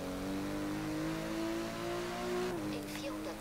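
A car engine in the racing game Forza Horizon 3 cruising on a motorway at about 150, a steady, fairly loud droning hum that shifts pitch briefly near the end.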